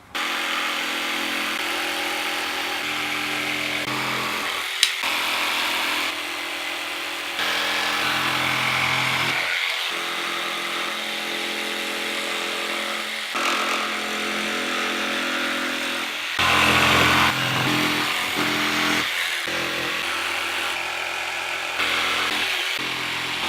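A Trend T4 router cuts along marked lines while carving a sign through a transparent base, its loud, steady whine running continuously with a few brief drops as the cut pauses and resumes, close and alone without speech.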